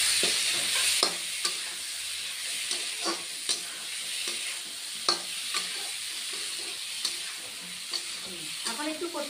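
Cumin powder and mustard paste sizzling in hot oil for a Bengali egg curry, with a steady close frying hiss and regular scrapes of a spatula stirring the pan.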